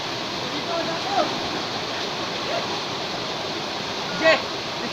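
Matti Waterfalls in Magpet pours with a steady, close, full rushing roar of falling water, unbroken throughout, with a few faint brief chirps above it.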